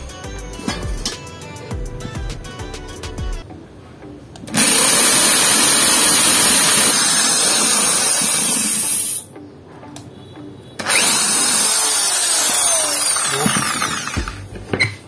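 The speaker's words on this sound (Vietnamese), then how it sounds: "mình sẽ khoan tiếp những con nhỏ nhất" A small Taro HSS 4341 titanium bit bores into iron with two long, loud, harsh grinding bursts separated by a short pause, preceded by faint rattling and clicks of handling.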